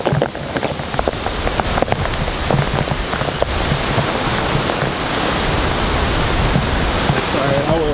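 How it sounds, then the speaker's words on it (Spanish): Heavy rain from Hurricane Fiona pours down steadily at night, a dense loud hiss of drops hitting surfaces, with a few sharp knocks near the start. "Está lloviendo duro."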